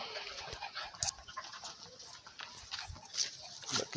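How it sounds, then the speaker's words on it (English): Dogs whimpering, panting and barking at moderate distance, with irregular short yelps over a noisy outdoor background and no clear talk. "I got my dogs."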